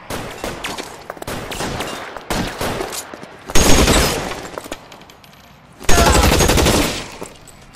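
Bursts of automatic gunfire in the video game LA Noire, loud and close, with rapid rattling volleys separated by brief lulls and two heavier sustained barrages.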